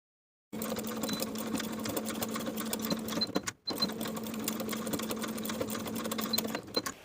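A sewing machine stitches the side waistbands of a woven romper to the front waistband, whirring rapidly and continuously at close range, with one brief stop midway before it runs on.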